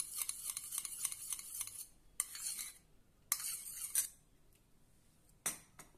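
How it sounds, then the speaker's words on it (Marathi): Yogurt (curd) whisked with a spoon in a bowl, quiet rapid scraping strokes in a steady rhythm, then a few separate bursts of whisking after short pauses. "दही छानपैकी आपल्याला ती फेटून घ्यायची आहे। अशी फेटून घेऊया दही।"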